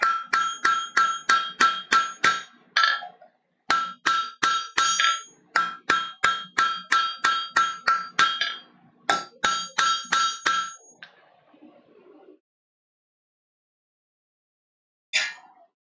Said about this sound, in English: forging that taper